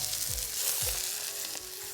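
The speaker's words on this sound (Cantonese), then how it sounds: "Next, start by frying the fat cap on each of the chops for 1 to 2 minutes." The fat cap of lamb chops fries in half a tablespoon of oil in a pan over medium heat, giving a soft, steady sizzle with faint crackles.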